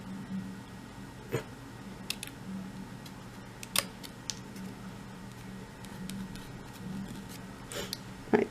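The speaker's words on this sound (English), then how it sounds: "maybe I need a better pair of scissors" A pair of scissors snips through paper while trimming a small paper-craft banner, giving a few sparse, faint clicks and cuts spread across a quiet room tone.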